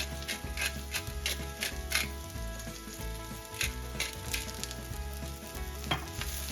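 Bacon and cabbage sizzle and crackle in a frying pan as they are stirred, with repeated scraping strokes and steady spitting fat heard close up, no voices.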